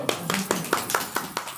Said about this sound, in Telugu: అది చప్పట్లు కొట్టండి.